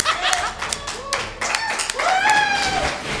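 Scattered hand claps mixed with whooping and laughing voices at an awards show, a short lively burst of cheering close by.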